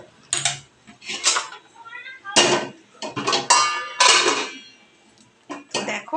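A metal kadai (wok) is set onto a lit stove with a series of sharp metallic clanks and clatters, scattered in irregular bursts with quiet gaps between them.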